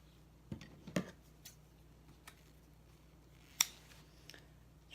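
Scissors trim thread on a handmade carousel book, making a few sharp, isolated snips spaced apart in an otherwise quiet room, close and fairly faint.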